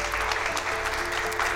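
Applause used as an effect in a French fireside puppet-theatre story, a steady even patter of clapping filling the short moment with no voices over it.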